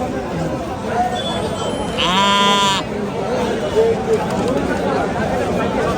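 A goat at a busy livestock market before Eid sacrifice lets out one loud wavering bleat, with other faint bleats and crowd chatter and voices around it.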